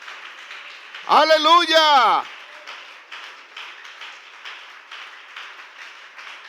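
A church congregation applauds in praise, a steady, moderate-level spread of clapping that carries on after someone shouts a single exclamation over the start of it.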